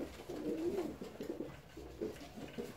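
Fancy pigeons in an aviary give soft, low, rolling coos that repeat through a faint, quiet background.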